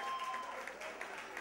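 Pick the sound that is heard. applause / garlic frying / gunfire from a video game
applause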